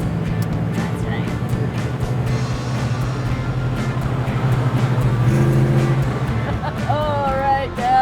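A 1972 Dodge Charger Rallye driving in second gear, its engine giving a steady low drone with road noise throughout, rising slightly near the end while people talk inside the car.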